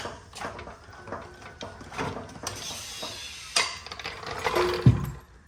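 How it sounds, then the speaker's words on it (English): A car jack being lowered beneath a car after an exhaust hanger repair gives off a run of ratcheting mechanical clicks and metallic knocks, close up, ending in a sharper clunk and a brief squeak. "I'm gonna lower my jack."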